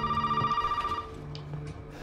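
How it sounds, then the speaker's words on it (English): A telephone rings in the Resident Evil 7 video game, a short electronic ring burst that repeats and then fades, heard alone without speech. "The phone ringing?"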